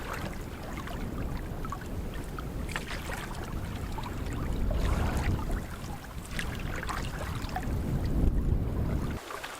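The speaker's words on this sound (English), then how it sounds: "Looks like we're going to hit some heavier wind up here. The waves look like they're just a little bit bigger out in front of us." Steady wind and choppy lake waves around a solo canoe on Baker Lake in the Boundary Waters, a continuous broadband rush and slosh that builds slightly in the second half, with no talking.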